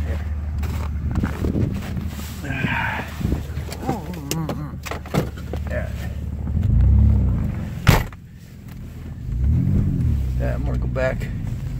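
A 2003 Ford Escape revs through a burnout while its 4x4 system is tested, with engine surges, tyre noise and a sharp knock nearby, and a person talks over it.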